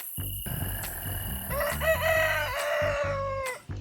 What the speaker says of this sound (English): There was a rooster out here.